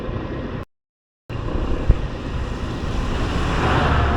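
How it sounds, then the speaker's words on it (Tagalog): Continuous rushing river water during a typhoon, with wind noise on the microphone, briefly cut out near the start, then returning steady and slightly louder. "Ito yung ilog guys"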